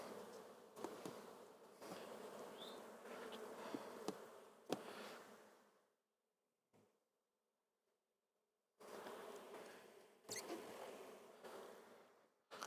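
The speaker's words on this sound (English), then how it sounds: "Get bees off the edges so they don't get squished." Honey bees buzz from an open beehive as it is being closed up, a dense droning hum that cuts out into near silence midway before returning just as strongly.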